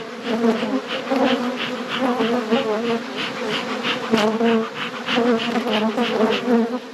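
Honeybees buzz densely and continuously at close range at a full hive, a thick droning hum with overlapping wingbeats rising and falling, no voices.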